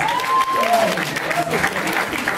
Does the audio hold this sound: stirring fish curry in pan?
no